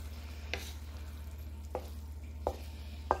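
Ribeye beef fried rice being stirred after a packet of seasoning is sprinkled over it: a few separate scraping knocks of the utensil against the pan over a steady low hum, fairly faint.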